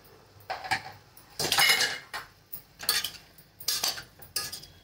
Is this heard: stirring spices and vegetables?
yes